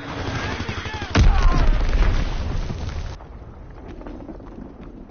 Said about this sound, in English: bomb incoming